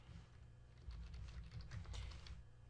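Quick, soft clicks of typing on a computer keyboard at a desk, an uneven run of keystrokes close by and fairly quiet, with no talking.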